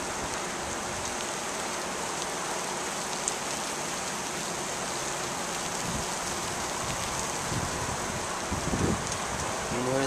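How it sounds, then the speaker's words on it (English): An afternoon rainstorm sets in. A dense, constant hiss of rain falls on surfaces outdoors near palm trees, loud and unbroken, with only faint low thumps underneath. "or the rain starting to pick up."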